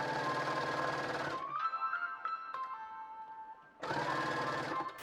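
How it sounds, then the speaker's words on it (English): A sewing machine runs steadily while stitching a side seam down to a corner, with loud continuous whirring bursts at the start and end and a quieter pause between them. "keep sewing all the way down until you reach the corner"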